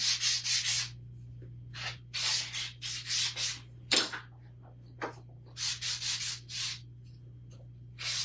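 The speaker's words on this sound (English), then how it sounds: "I sanded the front part, but didn't get the edges" Rhythmic hand sanding of a wooden carrot-shaped door hanger: short, bright scraping strokes in quick bursts with brief pauses, close and clear, no voices.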